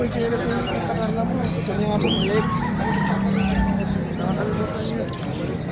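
Chickens cluck and a rooster crows amid a busy, noisy crowd with people talking in the background at the Bocaue pet market.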